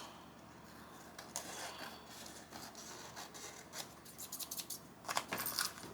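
Scissors trim paper for junk journal signature pages, giving faint, close snips and crisp paper rustles in irregular clusters that grow busier toward the end.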